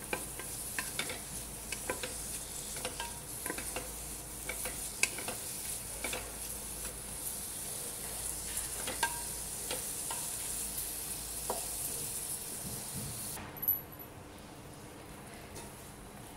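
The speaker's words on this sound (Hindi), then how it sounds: "प्याज को हल्का गुलाबी फ्राई करना है या भूनना है।" Onions fry in a pan to a light pink while being stirred, giving a quiet, continuous sizzle broken by soft scraping strokes, with a short louder clatter near the end.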